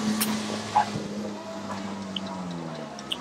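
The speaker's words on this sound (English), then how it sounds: "So the remaining 4 cars will contest 8 laps to round off the mini stocks action tonight." Mini stock cars race on an oval track at night, their engines droning in a steady mid-distance hum with occasional sharper revs and track noise, no voices over them.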